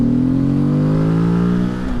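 Morbidelli T200V adventure motorcycle engine held at full throttle against a soft rev limiter, a loud, close, steady drone with slight wavering pitch and no talk.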